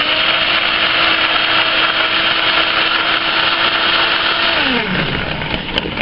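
An electric stick blender mixes neem clay soap batter toward medium trace, a loud steady high whir that holds for several seconds, then winds down in pitch near the end.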